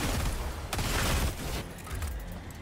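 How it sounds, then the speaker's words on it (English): Artillery barrage in the video game Helldivers 2, a continuous loud rumble of heavy explosions and debris with no clear gaps, booming close and dense throughout. "That's artillery."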